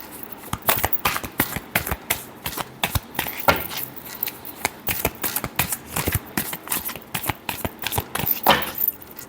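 Tarot cards are shuffled by hand, close and fairly loud, with rapid bursts of crisp riffling and slapping in an irregular rhythm and no talking.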